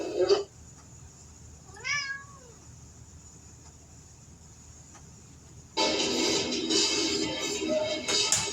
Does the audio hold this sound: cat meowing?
yes